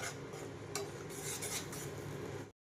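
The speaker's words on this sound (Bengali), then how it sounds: "দিয়ে মশলাটাকে একটু ভালো করে কষিয়ে নেব যতক্ষণ না তেল ছেড়ে যাচ্ছে" Spice paste with salt and turmeric is stirred and fried in a pan, a steady close scraping and rubbing with a faint sizzle, one brief clink, no voices.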